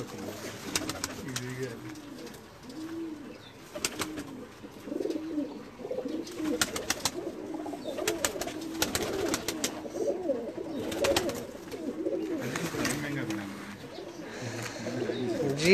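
Pigeons coo repeatedly at close range in a steady, overlapping chorus, with someone talking intermittently over them.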